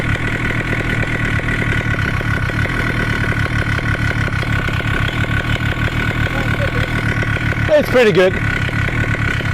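A Moster paramotor engine idles steadily at high RPM, a close, loud, even pulsing drone throughout, with someone speaking briefly over it and a short throttle blip near the end.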